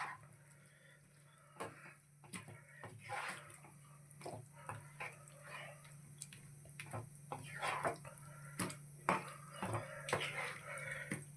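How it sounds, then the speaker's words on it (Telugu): Water is splashed into a pot of mushroom curry, a soft, quiet trickle and slosh accompanied by light clinks of a spoon against metal, with no talking. "అందులోనే మనం కొంచెం వాటర్ యాడ్ చేసుకుందాము ఉడికించుకోవడానికి"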